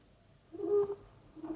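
A radio play sound effect of an owl hooting at midnight gives a soft, low hoot followed by a second fainter call, distant and alone in a quiet night setting.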